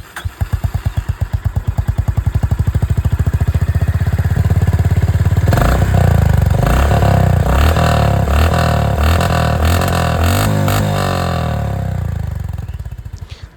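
A grey 2025 Honda CB350 H'ness motorcycle's exhaust pulses steadily at idle, then the engine is revved repeatedly in loud, rising bursts. It is heard close up with no talking.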